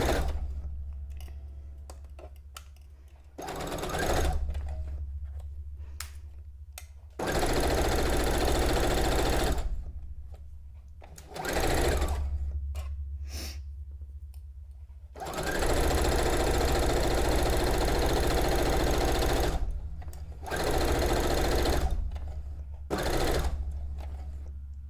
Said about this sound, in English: sewing fast gets the fabric through without getting it all bunched up